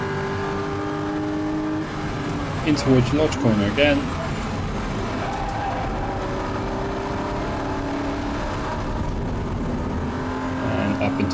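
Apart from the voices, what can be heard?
Porsche race car lapping Oulton Park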